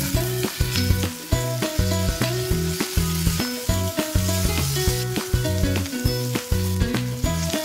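Spicy laing with chili, shrimp paste and shrimp sizzles loudly as it is stirred, with regular scraping strokes repeating about twice a second over a continuous fry, close and without talk.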